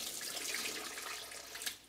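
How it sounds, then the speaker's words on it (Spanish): Rinse water from sprouting lentils being poured out, a soft steady splashing stream like a running tap, faint and close, continuing for about two seconds with no voices. "Entonces vamos a arrojar esta agua."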